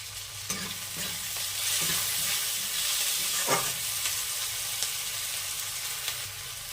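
Sliced onions, tomatoes and a little salt frying in a pan give a strong continuous sizzle, broken by the scrape and clatter of a spatula stirring several times.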